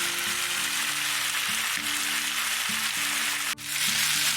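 Chicken sizzles steadily as it browns in a hot pan for a bourbon chicken dish, a loud, even frying hiss close up with faint scraping and stirring underneath.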